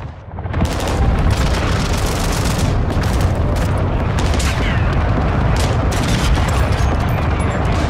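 Dense, continuous gunfire and booming explosions from a Call of Duty Modern Warfare 2 (2022) ground war match, loud and sustained throughout with no break.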